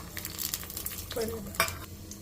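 Peanuts, chana dal, cumin, mustard seeds, dried red chillies and urad dal frying in hot oil for a tempering, a steady close sizzle with stirring scrapes and a small clink.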